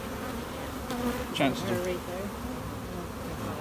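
Honeybees buzz steadily around an open hive during a hive inspection, a soft, even drone that fills the background while a person speaks briefly over it.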